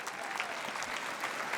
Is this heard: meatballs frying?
no